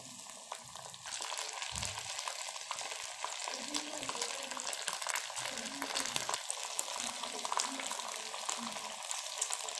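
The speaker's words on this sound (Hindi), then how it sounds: "तो अभी हम वेट करते हैं कि ये जो जितनी हमें चाहिए उस तरह से ये फ्राई हो जाए।" Green chillies frying in a pan for an okra masala give a steady, close sizzle with bright crackling and occasional stirring scrapes, continuous throughout without speech.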